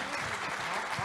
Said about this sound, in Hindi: उनके लिए एक बार ज़ोरदार तालियां हों।